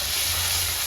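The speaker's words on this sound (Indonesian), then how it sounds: "Iki engko digoreng karo nek laos, bawang merah, bawang putih, lombok." Galangal, shallot, garlic and chili frying in oil for a traditional Javanese banana-leaf chicken dish, a steady close sizzle with no talking over it.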